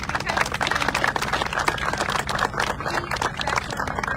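Audience applause after a toast at a VTA announcement on federal funding for BART Silicon Valley, dense steady clapping from a crowd for about four seconds with a low hum underneath.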